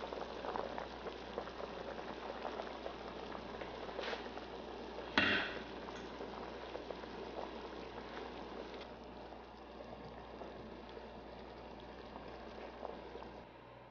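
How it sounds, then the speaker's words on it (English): Water with zongzi simmers at a boil in a large pot, a soft, continuous bubbling under quiet room tone, with one brief louder splash or clatter partway through. "In a large pot, bring water to a boil, add the zongzi and cook on medium heat for about 2 hours."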